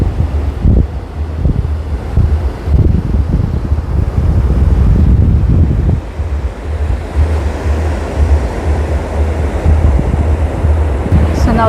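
Surf rolls onto Morjim beach in North Goa as wind buffets the microphone, making a loud, continuous roar of breaking waves with gusty rumbles throughout.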